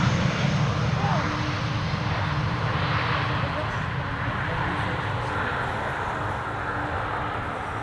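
A jet airliner on approach to land at Schiphol Airport, a steady broadband engine and air roar that stays loud and continuous throughout, slowly easing off, with a low hum beneath.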